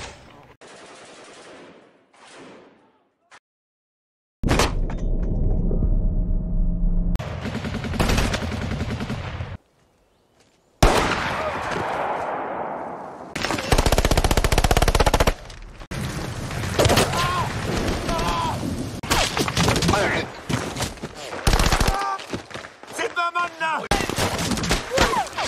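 Real war-footage gunfire: bursts of machine-gun shots and single loud reports with booms, spread across the stretch between quieter gaps, with voices heard at times.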